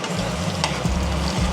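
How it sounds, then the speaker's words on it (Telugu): Capsicum sizzles steadily in a hot pan, a loud, continuous frying hiss with low bubbling underneath and a brief stirring scrape partway through, no voices. "సో ఇప్పుడు మనకి క్యాప్సికమ్ అనేది ఫ్రై అయిపోయింది గైస్"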